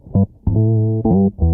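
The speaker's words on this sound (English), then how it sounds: "Regular guitar octave pedal sounds like this." Electric guitar run through a standard octave pedal plays a few sustained single notes with a thick doubled low tone, three to four close, loud notes with brief gaps between them.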